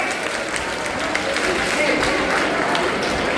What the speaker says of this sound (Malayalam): ഒരു കയ്യടി മക്കൾ കൊടുത്തേ.